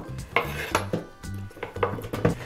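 Potatoes, leek, carrots and a stock cube tipped into a Moulinex Companion Compact Cook Platinum cooking pot for a potato soup, giving a series of close clattering knocks and scrapes against the pot with no talk.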